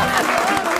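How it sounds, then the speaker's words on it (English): An audience claps together in a short, dense burst of steady applause that fills the whole moment, with no cheering or voices standing out. "That's clapping."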